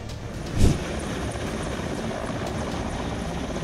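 An AgustaWestland AW169 helicopter on the ground with its rotors turning, then tipping over onto its right side, gives a steady loud engine and rotor drone with a brief thump near the start.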